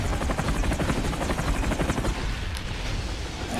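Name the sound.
helicopter in video game From Russia With Love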